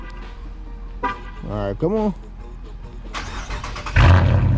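A 2019 Chrysler 300S cranks and fires up after someone speaks briefly. The engine catches with a loud burst at the end.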